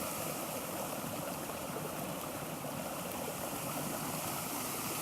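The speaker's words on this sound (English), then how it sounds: "The creek's kind of dried up right now. It doesn't have a whole lot of water." A small, low woodland creek runs with a constant soft hiss and gentle trickle, steady and unbroken without voices.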